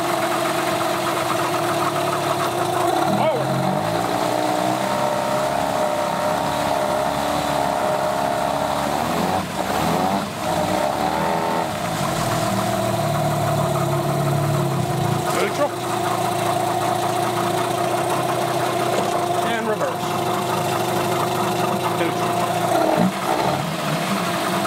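Yamaha outboard boat motor running at idle, a loud steady humming drone with slight rhythmic vibration throughout, heard close with no other sounds.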